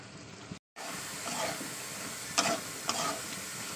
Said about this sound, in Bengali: আলুটা দিয়ে আমি ভালো করে এই মশলার সঙ্গে কষিয়ে নেবো, পুরো 1 মিনিট ধরে কষাবো